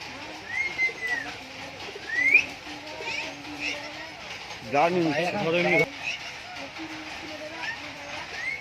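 Giribaz pigeons coo softly in a home loft, with faint repeated calls under ongoing conversation and a brief louder burst of noise partway through.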